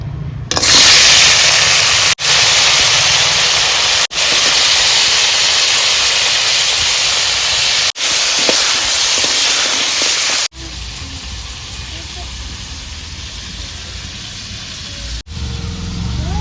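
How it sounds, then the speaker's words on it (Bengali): Crabs coated in turmeric frying in hot oil in a wok, a loud, continuous sizzle and hiss that runs unbroken, with brief dips where the crabs are moved. "কড়াইতে আমি কাঁকড়াগুলো এবার ভেজে নিচ্ছি।"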